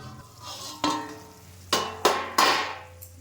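Spice masala being sautéed in a pan after a splash of water, before the meat goes in: a low background sizzle broken by several sharp spatula clanks and scrapes against the pan, the last few coming in quick succession.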